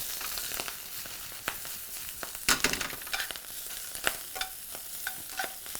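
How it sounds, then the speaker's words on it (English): Pork belly sears in a hot pan for pork belly and watermelon tacos, giving a steady close sizzle broken by occasional louder crackles and pops, with no talking. "All we're doing at this point is searing it off and giving it a nice little crusty exterior."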